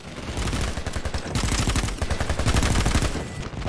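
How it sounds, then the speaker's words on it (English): Sustained rapid automatic gunfire from several weapons in a military shooter game, loud and close, with dense overlapping bursts of shots through the whole stretch and no pause. "Get suppressive firing going. Everyone should be firing."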